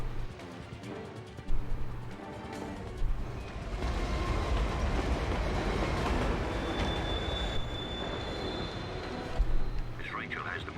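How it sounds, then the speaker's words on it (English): Monorail train in the Batman Begins video game, a steady loud rumble of rail travel building and holding throughout, with faint high squeals and a spoken voice over it. "Miss Rachel has the monorail in place."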